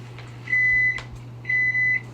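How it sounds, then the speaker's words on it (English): A microwave oven gives two loud, close electronic beeps, the second one longer and split into two tones, over a steady low hum with faint clicks between them. "Excuse the microwave."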